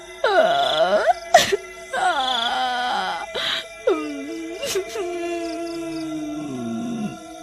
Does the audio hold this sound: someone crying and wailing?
yes